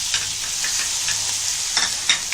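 Egg ghotala frying in a pan with tomatoes and finely chopped chillies, a steady close sizzle with occasional brighter crackles and stirring scrapes throughout.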